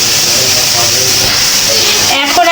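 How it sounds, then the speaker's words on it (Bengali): Onions fry in a pan, giving a steady, loud sizzling hiss that fills the whole moment without pause. "পেঁয়াজটা কিন্তু অবশ্যই ভালো করে ভেজে নিতে হবে।"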